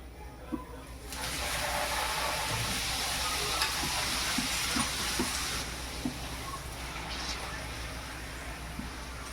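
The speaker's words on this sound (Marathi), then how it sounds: "ह्या तेलातच आपल्याला आता पापड तळून घ्यायचे" A large full-size Lilljat papad drops into hot oil already used for frying bhaji, setting off a sudden loud, steady sizzle and hiss that stays strong, with a few soft clinks and a voice talking underneath.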